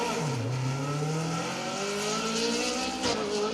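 A Darien rally car on an asphalt stage at the Manx Rally sounds at a distance, its engine note climbing and shifting through gears in rising, whining sweeps, with a faint tyre squeal over steady background crowd and ambient noise.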